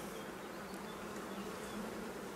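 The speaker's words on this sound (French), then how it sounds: "Donc on voit bien, il y a les abeilles dessus aussi." Honey bees crawling on a brood frame lifted from an open, queenless hive give off a steady, continuous buzzing drone, fairly quiet and close, holding level with no voices throughout.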